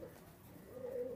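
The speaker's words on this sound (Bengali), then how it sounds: "আজকে কিছু সাকি ব্লাড লাইনের কবুতর দেখাবো।" Pakistani high-flying pigeons coo softly in a loft, a low steady murmur of calls rising slightly toward the end, quiet and close with no talking.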